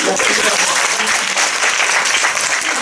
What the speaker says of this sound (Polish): jeszcze raz oklaski